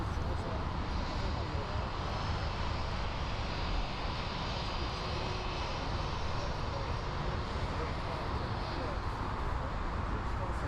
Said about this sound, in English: So here we have an A321 over here. Taxiing for departure.